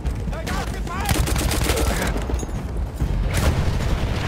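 Sustained gunfire and explosions in the World War I shooter Battlefield 1, dense and loud throughout, with bursts and booms layered together and a voice speaking over the battle noise.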